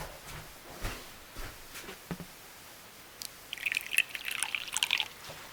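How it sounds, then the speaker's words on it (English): Hot water poured over three pelargonium seeds in a small cup, heard as a faint, close trickle with scattered drips, then a livelier splashing pour near the end. "put all 3 of my seeds in, label, and I will pour over hot water"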